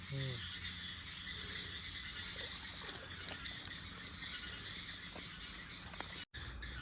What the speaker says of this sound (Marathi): रातकिड्यांचा आवाज येतोय नुसता